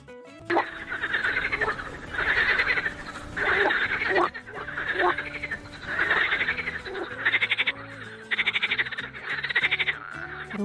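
Frogs croak loudly in repeated bursts of rapid, rattling calls, close and overlapping, with short pauses between choruses.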